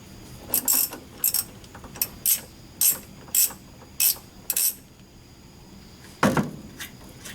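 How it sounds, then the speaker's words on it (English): A ratchet wrench backs out the half-inch hold-down bolts on a Corvair carburetor, giving about eight short bursts of clicking in an even rhythm, followed by one louder clunk. The sound is close and clear, with no talking. "Hold down bolts are coming out next. Those are 1/2 inchers."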